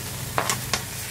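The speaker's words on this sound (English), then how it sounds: "Just keep stir-frying." Shrimp and onion stir-frying in a hot pan: steady loud sizzle with two quick scraping stirs of the spatula breaking through, no voices.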